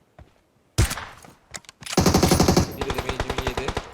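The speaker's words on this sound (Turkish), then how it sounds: "bize sıkıyorlar bunlar" Enemy gunfire in the PUBG Mobile battle-royale game: a sharp single shot, a few isolated cracks, then sustained rapid automatic bursts, loud and close, with no voices over it.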